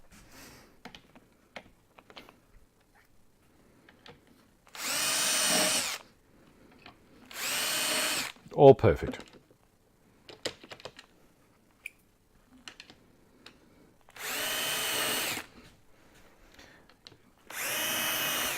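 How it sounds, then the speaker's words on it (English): Power drill boring holes into wood for a bandsaw box, four loud bursts of a few seconds each with quiet gaps between, plus scattered light taps and handling clicks. "So I'm going to drill the rest of these now."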